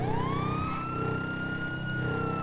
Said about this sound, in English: I wanted to turn the siren off, but instead I did dismount